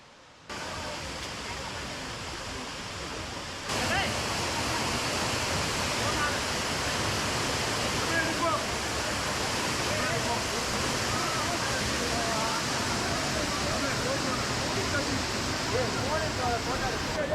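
Dense, continuous roar of a waterfall in Eravikulam National Park, loud and broadband, holding steady after a brief quieter start.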